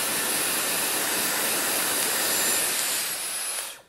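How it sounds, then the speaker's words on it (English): A Dyson Airwrap hair styler blows air in a loud, steady broadband rush that holds for several seconds, then cuts off and fades near the end, with no voices. "it's basically the same thing as the blow dryer"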